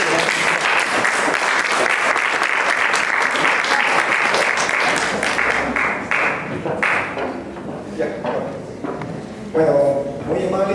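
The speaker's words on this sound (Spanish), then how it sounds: "Lo recibimos con un fuerte aplauso." A seminar audience applauds to welcome a guest presenter at a scientific research talk, dense clapping that thins out over the final seconds while a voice begins speaking.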